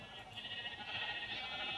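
Sheep in the game Minecraft bleat faintly and steadily, close but quiet, over a dense, even game background with no clear talk.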